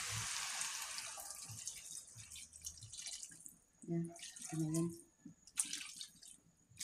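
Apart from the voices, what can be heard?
water poured into pan with tilapia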